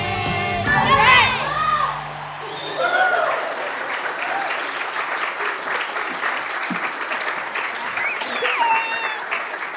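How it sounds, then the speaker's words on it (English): A church congregation at a children's spring play cheers and applauds. Children shout and sing over the start, then sustained clapping and whoops fill the room. "Let's cheer for the heroes of the faith."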